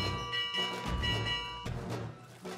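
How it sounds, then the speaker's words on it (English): A loud electronic alarm bell rings steadily with sustained tones, layered over busy game ambience in Assassin's Creed Mirage. "That's the alarm!"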